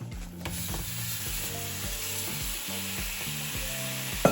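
Ground meat sizzling in a hot pan for sloppy joes, a steady loud frying hiss with a repeating mechanical clicking rhythm beneath it, close and continuous, with no talking.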